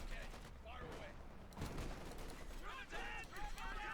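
Company of Heroes 2 battle gunfire from infantry and a Puma armoured car, a steady crackle of overlapping shots and bursts running throughout under a commentator's voice.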